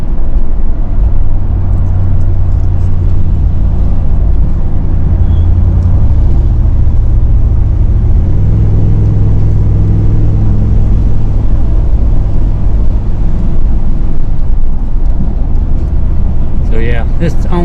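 Steady low rumble of a vehicle engine and road noise heard from inside while driving a short stretch of road, continuous and loud, with people talking over it.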